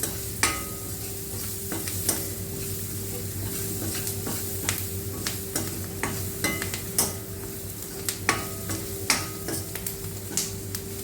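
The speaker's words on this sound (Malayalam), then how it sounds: "ഉള്ളി ഇപ്പം നല്ലതുപോലെ വരണ്ടു വരുന്നുണ്ട്." Onions fry in a pan for a taro roast, giving a steady soft sizzle broken by frequent sharp clicks of a spoon stirring against the pan, close by and moderately quiet.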